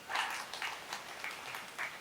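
Audience applause at a Hindi poetry recital, a soft, steady patter of clapping with slight swells, fairly distant and faint.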